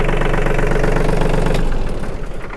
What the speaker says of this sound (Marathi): हा ॲक्सिलेट केल्यावरती असा काही आवाज येतो